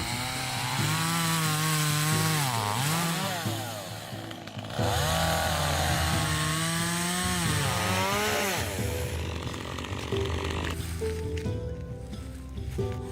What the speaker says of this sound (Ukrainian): Заводимо бензопилу і відпилюємо два товстеньких пенька.